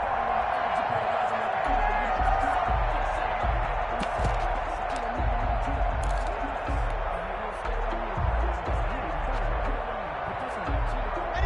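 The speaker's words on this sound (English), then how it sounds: "That just means this crowd's going to get even louder." Stadium crowd roaring and cheering at an American football game as the home team faces a goal-line stand, a loud sustained wall of noise under a commentator's voice.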